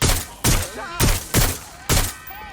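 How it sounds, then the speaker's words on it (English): Gunfire in the Watch Dogs Legion video game: five loud, heavy shots spaced roughly half a second apart, each a sharp blast with a ringing tail, close and alone without speech. "Gunfire!"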